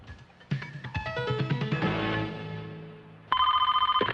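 A cordless phone ringing in a short comedic skit: a warbling electronic ring that slides and fades, then a second bright burst starts abruptly, loud and close with no talking.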